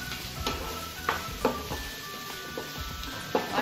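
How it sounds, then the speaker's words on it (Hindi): Cabbage and mixed vegetables stir-fried in a pan for Manchurian with fried rice, with a steady sizzle broken by several sharp scraping stirs and clinks of the spatula against the pan, close and fairly loud. "अब हम इसे अच्छे से मिक्स कर देंगे।"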